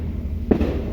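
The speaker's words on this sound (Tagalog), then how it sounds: "you may have heard the fireworks" A single firework bursts at New Year, a short sharp pop midway through, over a low steady background hum.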